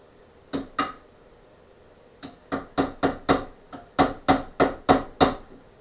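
Sharp metallic hammer strikes on 50-year-old rear suspension components being knocked apart. There are two blows, a pause, then a steady run of about a dozen loud, evenly spaced hits, close up with no talk.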